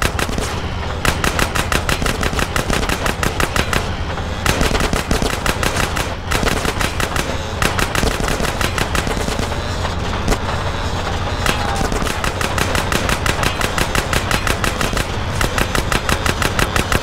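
Sustained rapid automatic gunfire in a GTA San Andreas train-chase mission, dense loud bursts repeating almost without pause, with brief gaps and engine rumble beneath.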